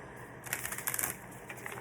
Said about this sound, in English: So we're gonna shuffle on the Selenites,